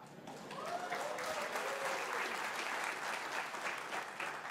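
A graduation ceremony audience for civil engineering graduates bursts into sustained applause and cheering, a dense steady clatter of many hands with a few raised voices, rising quickly and holding loud throughout.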